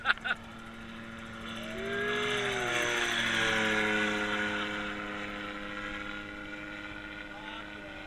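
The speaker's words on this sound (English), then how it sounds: "Let's see him just do a spot landing, eh?" A light aircraft flies low over Exmouth on its landing approach, its engine drone rising and sweeping in pitch as it passes close by for several seconds, preceded by a couple of sharp knocks.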